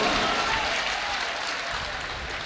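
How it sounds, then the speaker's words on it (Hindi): An audience at a ghazal performance breaks into loud, dense applause that fills the whole stretch with continuous clapping, fading only slightly toward the end. "एक मरतबा जोरदार तालियां बजाकर पीछे तक दुआ दीजिए"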